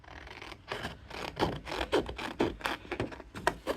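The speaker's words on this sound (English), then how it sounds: "I'm not big on these scissors." Scissors chopping paper while fussy cutting a card background, a series of crisp snips and rustling scrapes in an uneven rhythm, close and quiet, with no talking.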